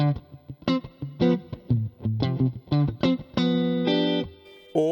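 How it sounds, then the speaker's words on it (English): An electric guitar plays a clean tone with reverb through a Boss Katana amp, picking a quick run of separate notes and short chords before ending on a sustained ringing chord. "So, very first thing that I've got is my clean tone. Basically, I can turn on reverb."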